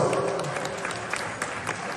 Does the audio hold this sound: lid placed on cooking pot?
no